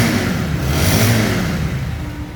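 A lightly used secondhand Honda motorcycle engine revving up and settling back, a smooth close rumble swelling briefly before easing off.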